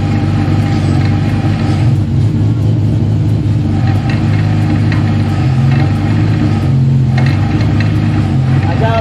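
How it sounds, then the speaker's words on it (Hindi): A car engine runs loudly and steadily close by after being started and put in first gear in a garage during a hydraulic handbrake install, a constant low drone with slight variations and no clear speech. "फाइनली हमने गाड़ी स्टार्ट कर ली है"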